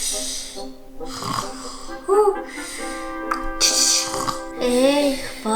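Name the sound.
snoring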